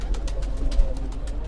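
A pigeon coos softly on a rooftop in Gujarat, close, amid low outdoor rumble and a series of faint rhythmic rustles or flutters.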